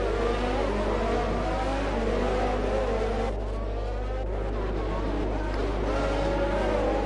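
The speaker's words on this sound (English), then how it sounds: "Revving their engine out." Race car engines in a Monaco Grand Prix racing video game, a sustained high-pitched engine whine with shifting revving pitches, steady and loud, with faint commentary talk underneath.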